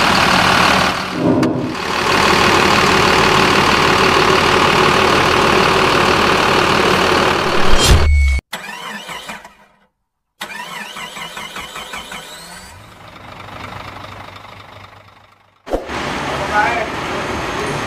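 A Mercedes-Benz OH1526 bus engine idles loudly and close, then cuts out. It later cranks and restarts with a diesel clatter, while voices talk nearby.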